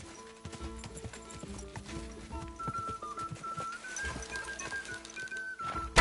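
Horse hooves clip-clopping at a steady gallop in Kingdom Come Deliverance 2, a continuous rhythmic run of hoofbeats with a whinny and faint background birds, with a rising tone and a sharp hit at the end.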